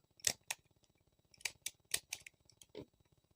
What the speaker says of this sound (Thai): เจียนตัดใบตองค่ะ